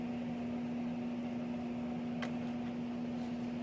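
A steady hum and rushing airflow from a homemade negative air machine built with a shop vacuum for duct cleaning, running at an even level throughout, with a brief faint click partway through.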